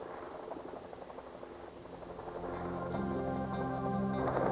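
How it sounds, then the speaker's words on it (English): A Canadian Forces military helicopter at a forward arming and refueling point, its rotor and turbine producing a steady buzzing roar that swells louder as it moves nearby. "the helicopter moves to a departure holding area and rejoins the remainder of the flight"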